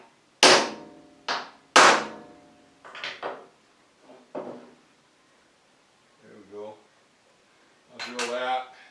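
Sharp metallic hammer strikes ring out as a 1/2 inch transfer punch is driven into metal, a few loud irregular blows, then softer taps and a voice near the end.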